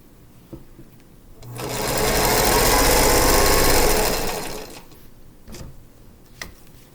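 A sewing machine chain piecing quilt block scraps runs steadily for about three seconds, loud and close, with faint handling sounds before and after.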